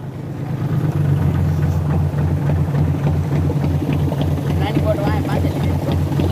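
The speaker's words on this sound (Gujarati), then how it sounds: "આ ભાઈએ આપણે હોડું શરૂ કરીને બતાવ્યું" A small boat engine putters steadily close by, a low rhythmic chugging that runs throughout, with voices talking over it.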